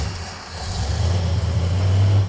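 A Plymouth Road Runner's engine runs close and loud with a steady low rumble, its pitch rising slightly as it is revved toward the end.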